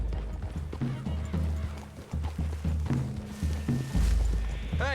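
Several horses clop through trees in Red Dead Redemption 2, their hooves thudding steadily and close over a low rumble. A horse snorts near the end.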